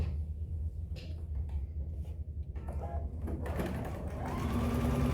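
A sewing machine joins fabric strips at a quarter-inch seam, its low steady motor hum and rapid needle chatter running continuously and growing louder and denser toward the end.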